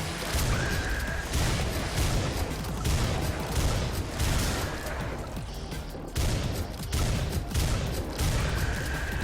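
Gunfire in the video game Butcher, dense rapid shots and crashing impacts in sustained bursts with brief gaps, loud throughout and without talk.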